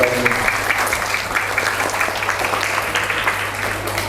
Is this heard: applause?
yes